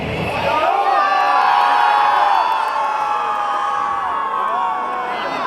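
A large concert crowd in Zolotonosha shouts loud, sustained call-and-response chants back at the stage, a dense roar of many voices filling the space continuously.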